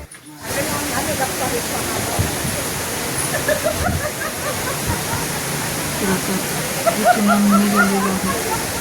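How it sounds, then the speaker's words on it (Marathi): A waterfall near a resort pours with a continuous broad rushing hiss that stays loud and steady throughout after a brief quiet start. "इकडे जो धबधबा आहे"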